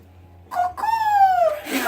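A person imitates a parrot's call during an animal-sounds drinking game: one short squawk, then a longer, loud, warbling cry that slides downward, with no talk over it.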